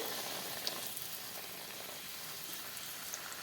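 Moong dal puri frying in hot oil gives a steady, dense sizzle and crackle at close range, even and unbroken throughout with a few small pops, and no voices.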